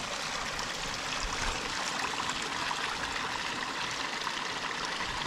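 Water flowing steadily through the overflow stream of a homemade swim pond, a dense, even rushing and trickling with no breaks, fairly close, no voices.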